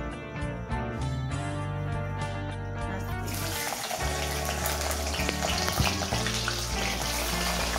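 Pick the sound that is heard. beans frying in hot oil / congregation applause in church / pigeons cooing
beans frying in hot oil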